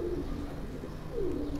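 Pigeons coo in low, soft, rolling calls, two phrases heard close by in a quiet setting, with no talking.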